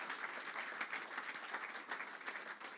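A church congregation at a worship service claps in steady, sustained applause, a dense patter of many hands heard at moderate distance with no voices over it.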